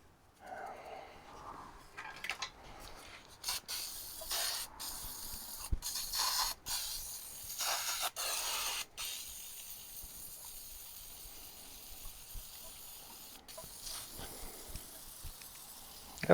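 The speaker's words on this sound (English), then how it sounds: "I don't mind spraying this all down with this penetrating oil" Bursts of penetrating oil spray hiss repeatedly onto a Detroit 6V92TA diesel engine, several short and long sprays in close succession, then a quieter steady background.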